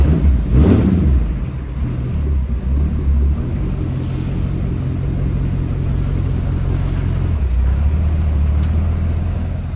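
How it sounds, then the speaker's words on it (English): A 1929 Ford Model A hot rod, part Corvette, fires and revs loudly near the garage, then settles into a steady rumbling idle as it pulls out. "So let's go ahead and pull her out of the garage."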